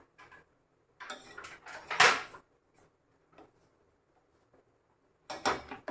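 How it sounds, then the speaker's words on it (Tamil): Fruit pieces for a fruit custard being stirred in a bowl, giving soft scattered clinks and clatters in short bursts with quiet gaps between them. "இப்போ நம்ம எல்லாத்தையும் மிக்ஸ் பண்ணுறோம்"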